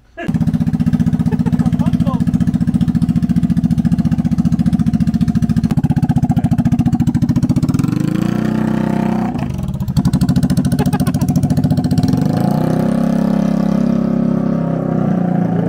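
A Vespa GTV300 scooter engine with an open Termignoni exhaust idles loud and rough with a raspy, unmuffled rattle, its pitch rising and falling as the throttle is blipped, voices talking over it.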